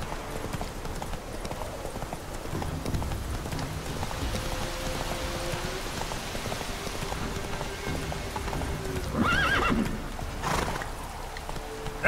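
Roach, a horse in The Witcher 3, gallops with steady clip-clop hoofbeats over a rain-like background, then gives a loud whinny near the end; no talking.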